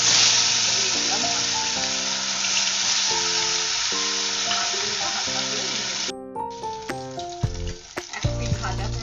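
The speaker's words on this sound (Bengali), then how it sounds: "এক পিঠ ভাজা হয়ে গেছে।" Rohu fish pieces fry in hot oil with a loud, close, continuous sizzle and crackle, and someone talks over it. Near the end the sizzle gives way to scraping and clattering as the pieces are turned and lifted.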